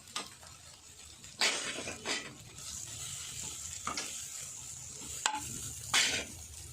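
Poha snack with Himalayan pink salt is stirred in a pan, a low sizzle under a few distinct scraping strokes of the spoon spaced a second or two apart, close and fairly quiet, with no talk.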